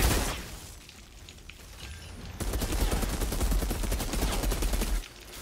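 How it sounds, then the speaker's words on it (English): Rapid bursts of gunfire from other players in a first-person shooter, with dense overlapping shots and a sharp jump into sustained automatic fire partway through, loud and close, with no talking. "Other dicks are shooting."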